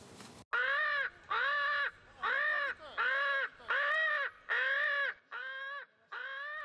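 Crows from a flock settled in front of a train station in Nagaoka give eight loud, close, evenly spaced caws in steady succession, with nothing else heard between them.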